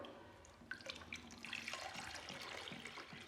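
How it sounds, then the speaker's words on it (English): Water trickles and splashes as it is poured into a home coffee maker, a steady faint stream with small drips, close by. "you pour the cup of water here"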